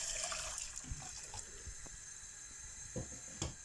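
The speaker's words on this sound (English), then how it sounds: "So add our water in there." Water runs and splashes into a pot, a soft continuous pour with a few light knocks, fairly close and quiet.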